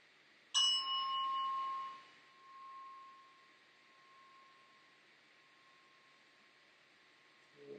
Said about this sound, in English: feel the chime reverberating in your body